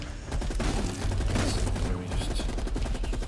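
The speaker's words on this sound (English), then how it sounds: "That shotgun's good" A 12-gauge shotgun firing in a zombie shooter game, mixed into a dense wall of continuous battle noise with explosions and other gunfire, loud and sustained throughout, and a voice talking underneath.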